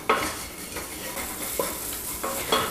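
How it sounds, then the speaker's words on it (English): Curry powder and turmeric sautéing in olive oil in a pan, a steady close sizzle with a few stirring scrapes of a utensil at irregular intervals, no voices. "Give it a little saute and give the spices a chance to blend with the olive oil"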